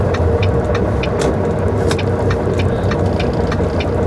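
The engine of an old red truck drones steadily while driving along a road, loud and close with constant low rumble and scattered clicks and rattles, no voices.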